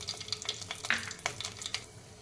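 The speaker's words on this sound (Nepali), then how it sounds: "अब यसमा मैले यो हरियो खुर्सानीलाई पनि फुराइदिन्छु।" Slit green chilies and cumin seeds crackle in hot oil, soft sizzling broken by a run of sharp pops and spits, close and fairly quiet, with no talk.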